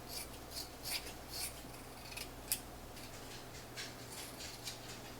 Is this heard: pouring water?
no